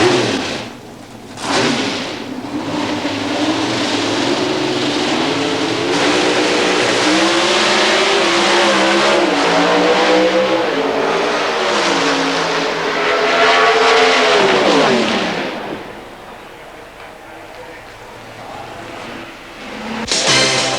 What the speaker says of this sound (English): while Bob Glidden in the Ford was up against the Pontiac of Jim Yates